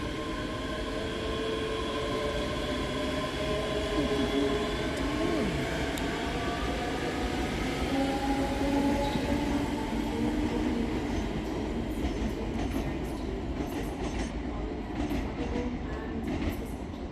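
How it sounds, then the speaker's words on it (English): Two coupled Scotrail class 385 electric trains pull out of Edinburgh Haymarket station, a steady loud rumble of wheels and rising electric motor whine with faint clicks of rail joints, heard close from the platform without talk. "Next to depart is 385044 and 385031 with the 1913 Scotrail service from Edinburgh Waverley to Glasgow Queen Street via Falkirk Grahamston."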